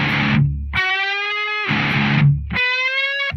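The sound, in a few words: heavily distorted guitar playing a Final Fantasy X song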